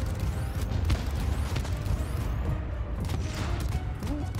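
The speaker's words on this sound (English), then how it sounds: "Turrets are turned on." Gun turrets in the space game Void Crew rattle off a rapid, continuous stream of shots over a low mechanical rumble, with faint whooshing sweeps and no voices.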